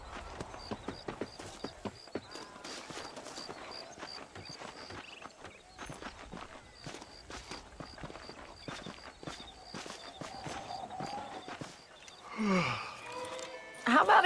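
Horse hooves clip-clop in the video game Red Dead Redemption, a steady walking rhythm of hoofbeats under bits of game sound, ending with a voice speaking over it.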